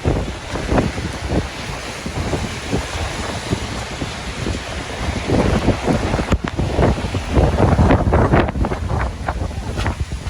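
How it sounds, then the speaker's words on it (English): Strong cold-front winds buffet the microphone in loud, irregular gusts over a constant roar, with heavy rain and gusts building toward the end, outdoors in New York. "the winds are certainly picking up"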